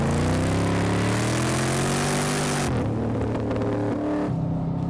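A Chevy Camaro ZL1 on a race track works hard through a tight corner, its engine roaring loudly and steadily, dropping briefly as the gear changes, then pulling again.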